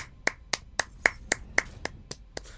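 Nine sharp, evenly spaced hand claps or snaps in a room, each crisp and close, at a steady moderate pace.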